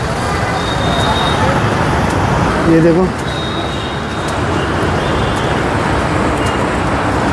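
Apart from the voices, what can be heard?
heavy road traffic near Jodhpur railway station market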